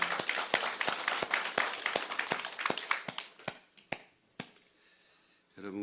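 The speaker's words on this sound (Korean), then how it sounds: "우리 하나님께 영광의 박수 올려드리겠습니다" A church congregation at a Sunday service claps in praise: a run of crisp, evenly spaced claps from a small group that thins out and fades to a few scattered hits, then a voice begins speaking at the end.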